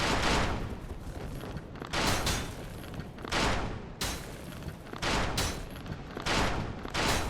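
Enemies in Dark Souls Remastered fire in dense, loud volleys, bursts of gunfire repeating roughly every second and a half across the stretch with rumbling low booms underneath.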